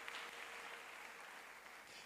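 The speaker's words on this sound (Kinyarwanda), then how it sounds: "Dukomere umwami Yesu amashyi." A church congregation applauds during a sermon, producing a brief, steady wash of clapping heard faintly and at a distance.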